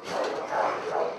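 A Rottweiler judged too aggressive by a vet barks in a steady, muffled, noisy stretch, the barks blurring together over a dense background din.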